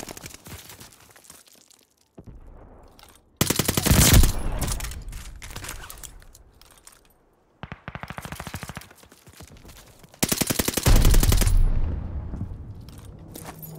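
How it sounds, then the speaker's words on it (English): Turret machine gun fire in the Call of Duty: Vanguard video game, heard as loud rattling bursts that come in several separate volleys with quieter gaps between them, and no talk over the top. "Friendlies called in a turret."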